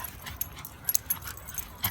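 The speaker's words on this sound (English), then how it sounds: "Crazy dog." A dog whimpers and yips outdoors, faint and thin, with a few brief higher cries between softer whines, and no talking.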